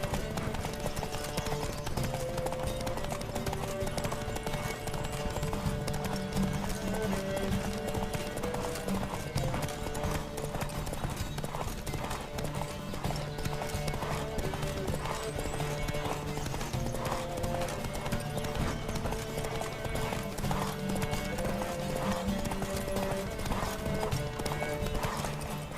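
Horse hooves pound in a fast, steady galloping clip-clop from a Witcher 3 Wild Hunt race, running continuously under music, with an occasional whinny.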